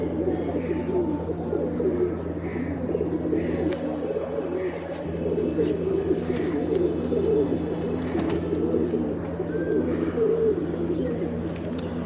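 Pet pigeons, including young birds, cooing continuously in a loft, a dense low murmur of overlapping coos held close and steady throughout, with no talk over it.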